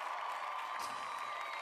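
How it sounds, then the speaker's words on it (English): Crowd applause and cheering rise as a steady, fairly faint wash of clapping and voices, continuous for the whole moment with no clear peaks. "And the crowd goes wild."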